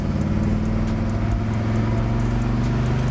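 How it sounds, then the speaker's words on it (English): Deep, throaty burble from the exhaust of a 1967 Chevelle with a 454ci V8 just after a downshift, with steady low harmonics rumbling loud and continuous throughout, no talk. "Oh, American muscle coming out of those pipes."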